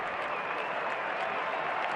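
A capacity baseball crowd at Fenway Park applauds and cheers at the Red Sox home opener, a dense, continuous roar of clapping filling the whole stretch at an even level.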